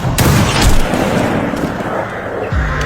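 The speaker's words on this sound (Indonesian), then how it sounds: "dua sniper terbaik dari masing-masing kubu ini pun saling beradu tembakan" Gunfire sounds in a war film sniper duel between two snipers from opposing sides. Loud, close shots crack out against a dense, rumbling battle backdrop, with a sharp report near the start and another near the end.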